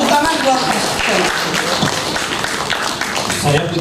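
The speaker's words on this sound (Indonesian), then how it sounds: "Tepuk tangan buat Mas Seno." At a radio industry summit, an audience claps for a speaker, a fairly loud, steady patter of many hands with voices mixed in.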